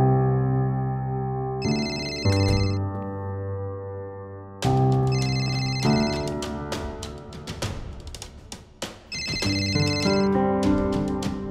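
A phone ringtone plays in a drama scene, a loud, bright repeating electronic melody with layered tones that rings on without pause and goes unanswered.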